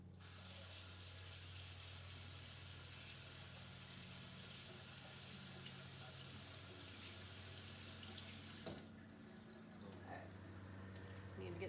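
Tap water runs steadily into a sink as dough is rinsed off hands, a constant faint hiss that stops abruptly near the end, leaving a quiet low hum.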